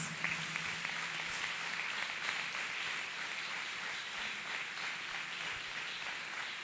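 A church congregation claps together continuously, a soft, dense patter of many hands heard from a distance.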